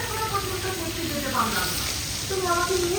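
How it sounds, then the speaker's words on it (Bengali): Padma hilsa fish fry in mustard oil at a riverside stall by the Mawa ferry ghat, sizzling in a steady, close crackle with faint voices murmuring in the background. "সরিষা তেল দিয়ে পদ্মার ইলিশ ভাজা দেখতে পাচ্ছেন"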